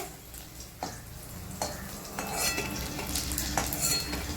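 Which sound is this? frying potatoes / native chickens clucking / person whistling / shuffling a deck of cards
frying potatoes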